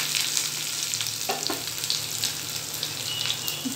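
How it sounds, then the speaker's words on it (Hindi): Finely chopped curry leaves sizzle and crackle in hot oil with cooked garlic, a steady close frying hiss with a few stirring scrapes throughout. "इसमें हम लोग कड़ी पत्ता डाल देंगे"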